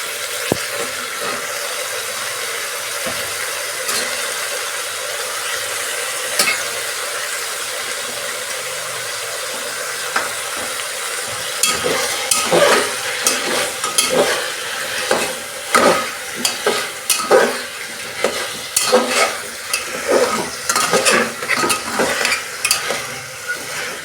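Washed vegetables go into a hot pan with a little oil and are stir-fried for a vegetable and chicken dish. Steady close sizzling builds, and the second half brings rapid clattering stirring strokes.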